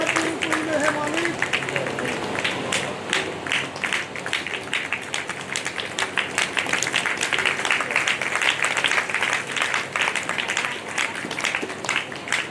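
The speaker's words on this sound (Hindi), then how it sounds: "ताली बजाकर स्वागत कीजिए" An audience at a Bhagwat katha, a Hindu religious discourse, claps in welcome. The sustained clapping has a steady patter, with a voice speaking over it.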